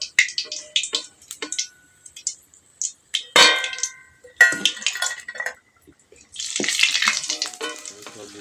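Banana flower fritters frying in hot oil, with intermittent sizzling crackles and spatters that swell into a dense, bright sizzle near the end, close and fairly loud, with no talking.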